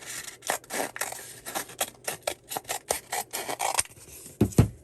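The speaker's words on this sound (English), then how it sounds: "We're gonna cut this in half, and then you can go ahead and cut it in half again" A tube being cut in half while making a French knitter, heard as a series of short, rhythmic rasping and scraping strokes, close and uneven, ending in a louder scrape.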